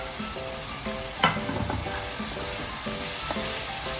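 Sausage frying with ground pepper in a pan, a constant close sizzle with a clack of a utensil against the pan near the start, while faint music plays underneath.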